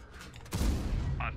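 A tank cannon firing in a tank video game arrives as a sudden heavy boom halfway through, followed by a low rumbling tail, with faint game sounds before it.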